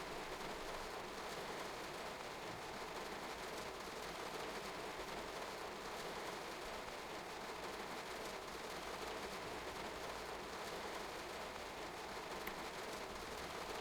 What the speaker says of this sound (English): Hearing the rain on the roof.